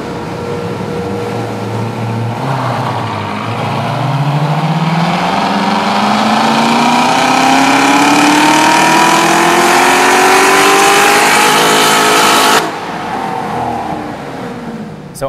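Chevrolet C7 Corvette V8 engine revving during testing, a loud climbing rev that rises steadily to a high pitch then drops off abruptly, heard close and alone.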